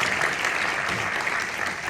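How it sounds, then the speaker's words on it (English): Steady, dense applause from a theater audience at a film event, loud and continuous for a couple of seconds with no pauses. "Yes, a round of applause."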